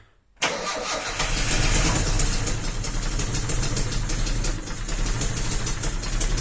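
A car engine cranks and catches after fuel is added, then keeps running with a steady, loud mid-pitched idle that fills the rest of the clip.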